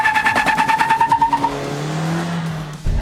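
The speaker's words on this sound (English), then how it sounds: "As you go to the higher end, this engine gets very vocal and has a very typical racy tune to it" A Maruti XL6 with the K15 petrol engine revs hard, its pulsing engine note climbing quickly, then settling into a steadier falling drone as the revs drop; loud and close with no talk.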